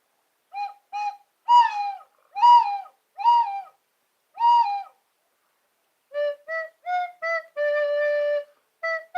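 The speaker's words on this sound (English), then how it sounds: "it was doves making that sound. Oh, kind of like an owl." Doves give a run of soft, owl-like hooting coos, a series of evenly spaced calls, then a brief pause before another quicker series follows, heard clearly against silence.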